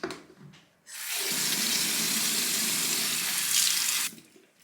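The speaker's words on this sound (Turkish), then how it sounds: "Bir de La Roche'un bu yüz yıkama jeliyle yüzümü yıkayacağım" Tap water runs steadily into a sink for about three seconds while a face is washed with a La Roche face wash gel, with faint handling sounds before and after.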